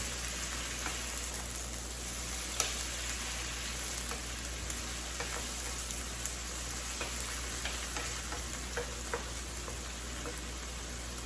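Beef liver sizzling steadily in a hot pan during a stir-fry, a dense continuous crackle with scattered louder pops and no talking over it.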